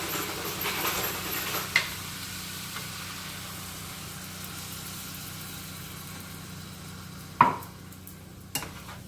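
Stir fry pasta salad with molasses, sugar and ginger being stirred in a pan: a steady low sizzle and hiss throughout, with a few sharp scraping clinks of the utensil near the end, no talking.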